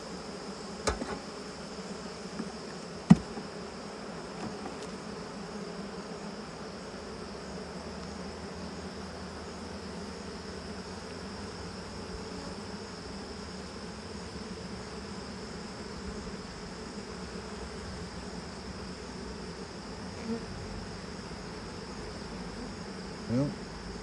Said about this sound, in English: When we're catching swarms, we really only have to catch one bee, and that be the queen.